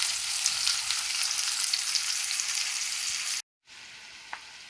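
Loud, steady sizzling of onion frying in a pan, a dense hiss that briefly cuts out near the end before resuming more quietly.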